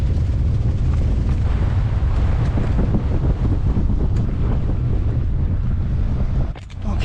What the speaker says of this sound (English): I can feel it's too fucking windy